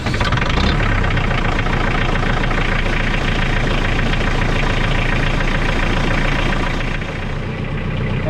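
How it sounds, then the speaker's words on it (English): A heavy tractor engine idles loudly and steadily nearby, a rough, chugging low rumble that continues without pause, with no voices. "So let's get the tractor fired up."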